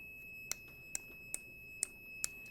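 A defective electronic circuit under a relay and magnetic-switch test emits five short, sharp electronic beeps at a steady, roughly half-second rhythm, close and clear over a faint steady tone, with no talking.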